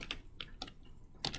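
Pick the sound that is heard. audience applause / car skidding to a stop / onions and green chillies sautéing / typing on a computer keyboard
typing on a computer keyboard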